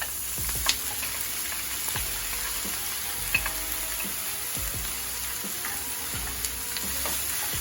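Beef dropped into a hot pan with peppers and onions for sopes, crackling in a dense continuous sizzle with scattered sharp pops and occasional utensil scrapes, close and unbroken by talk.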